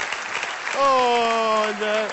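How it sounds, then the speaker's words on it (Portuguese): Applause from a studio audience on a Portuguese evening TV talk show, a steady wash of clapping with a voice talking over it and held sung or called tones rising above the crowd. "uma salva de palmas para ela"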